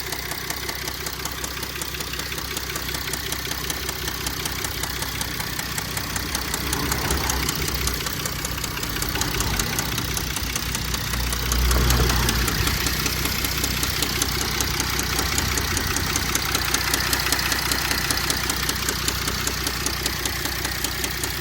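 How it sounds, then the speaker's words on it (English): A 2005 Mercedes CLS 320 CDI diesel engine runs steadily with a persistent rhythmic knocking suspected to come from a worn rod bearing, loud and close, with a brief heavier surge midway and no talking. "Why am I getting these knocks on the engine?"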